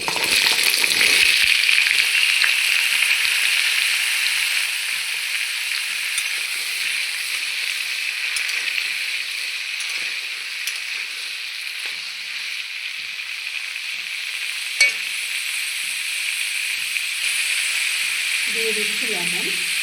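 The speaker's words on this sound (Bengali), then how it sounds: "আমি এখন দিয়ে দিচ্ছি পেঁপে আর আলু একসঙ্গে ভেজে নেব।" Papaya and potato pieces frying in hot oil in a wok, giving a steady broad sizzle that holds throughout, louder at first and then settling, with a brief clatter near the end.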